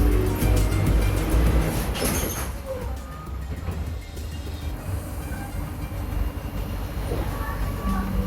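A Singapore metro train rumbles along with a loud low-frequency roar and a rattling carriage, heard from inside with faint background voices, the noise dipping slightly midway.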